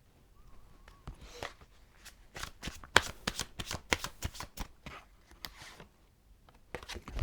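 Tarot cards are shuffled and drawn close up, a soft rapid riffling of flicks and slaps in uneven bursts, quiet and alone.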